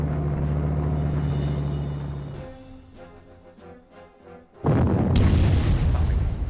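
Artillery fire in the video game Panzer Corps: a deep boom rumbles out, fading into a low tail, then another heavy blast hits loudly near the end.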